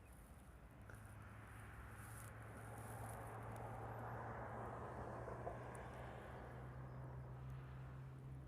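Jet airliner engines spooling up at Honolulu airport, a steady low drone building gradually and holding under distant airport ambience throughout.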